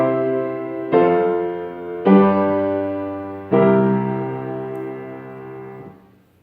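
Three sustained chords struck one after another, each ringing and decaying, the last chord held longest and left unresolved before fading out.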